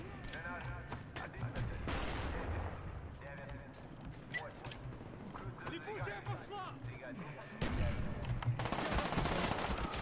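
AK-74U gunfire in Black Ops on PC: sustained automatic fire with metallic clatter and distant booms runs throughout, getting louder near the end.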